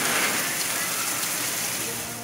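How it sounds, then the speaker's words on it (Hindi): Torrential monsoon downpour in Pakistan, a dense unbroken roar of heavy rain pounding surfaces, loud and steady from start to finish. "कश्मोर, सजावल, बदीन, मीरपुर खास, नवाबशाह और टंडो मोहम्मद खान समेत मुख्तलिफ शहरों में मूसलाधार बारिश।"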